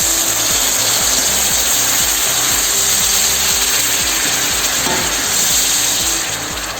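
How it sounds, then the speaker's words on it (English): Fresh tomato puree hits a hot pan while cooking chicken pastilla filling, giving a steady, loud, close sizzle and crackle that continues evenly throughout, with no one speaking. "Now we're gonna add fresh tomato puree."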